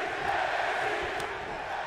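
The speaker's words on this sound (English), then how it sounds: "You can hear the crowd." A video-game wrestling crowd in WWE 2K22 keeps up a steady, dense roar of cheering at an NXT 2.0 match just after the opening bell, filling the whole stretch.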